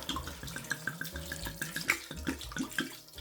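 Full-bodied red wine pouring into a braising pot over browned chuck blade beef, a close, continuous gurgling splash with bubbling glugs throughout.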